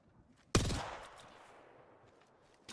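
A single sharp, loud gunshot in Apex Legends cracks out and decays into a long reverberant tail, followed by another shot starting at the end, otherwise quiet.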